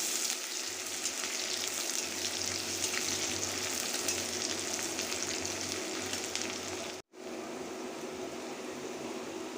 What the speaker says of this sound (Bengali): আদা কুচি, পেঁয়াজ কুচি দিয়ে বুট বাগার দিব।